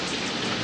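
Steady rain pours over the open grassland of Ngorongoro Crater, a dense, even hiss of drops with no breaks, close and moderately loud throughout.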